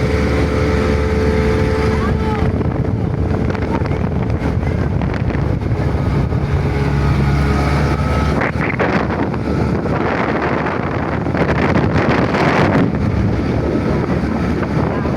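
A fiberglass motorboat's engine running at around 10 knots, a loud continuous drone with heavy wind buffeting the microphone and water rushing past the hull, steady throughout.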